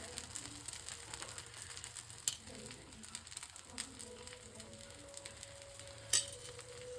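Paddu cook in a pan with oil dribbled on top, giving a low, continuous sizzle with faint clicks and a sharp metallic tap near the end.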